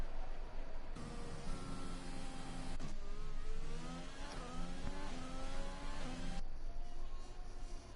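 Race cars coming around the track at the Italian Grand Prix in a racing video game, engines revving up and down through gear changes, steady and moderately close, with a brief pause in the middle.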